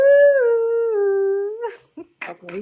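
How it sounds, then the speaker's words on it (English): A dog lets out a long, drawn-out howling whine that slowly falls in pitch, followed by a few short, quieter yelps, close and clear. "I don't know what he was barking at."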